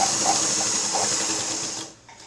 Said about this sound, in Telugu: డబల్ స్టిచ్ చేసుకోవాలి